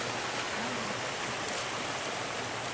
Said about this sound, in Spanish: Ay, qué bonito arroyo, ve nomás, mira ya, ese paisaje tan bonito.